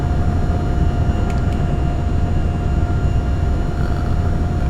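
Steady, droning engine and rotor noise from a small helicopter flying over hills in a flight simulator game, constant and fairly loud with no voices.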